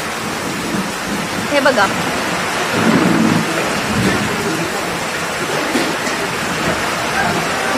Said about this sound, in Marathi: आणि आमचा चहा पिऊन होतोय ना होतोय तोच भयंकर पाऊस पडायला लागलाय